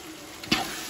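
Turmeric and curry powder fry in oil in a pan for chicken biryani, giving a close, steady sizzle broken by quick scraping strokes of a spoon stirring.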